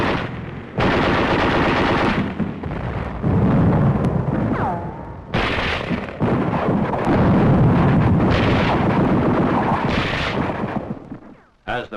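Gunfire crackles in loud, sustained bursts during a WWII attack near Bastogne, roughed up by heavy wind buffeting across the recording, with brief gaps between bursts.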